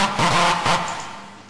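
Big room house drop built in FL Studio and heavily processed with effects such as Camel Crush, giving a loud, dense, distorted synth burst with pulsing low bass hits, fading over about a second and a half.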